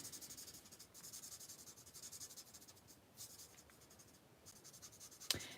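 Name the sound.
marker coloring on paper with light end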